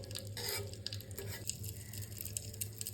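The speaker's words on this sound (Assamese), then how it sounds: "এইখিনি লৰাই গোটেই কেণ্ডেলখিনি তেলৰ লগত যেতিয়ালৈকে মিহলি হৈ নাযায় তেতিয়ালৈকে এইখিনি লৰাই থাকিব লাগে" Melted candle wax being stirred with oil in a pan over a gas flame, a faint, close scraping and soft bubbling sizzle with a low steady hum underneath.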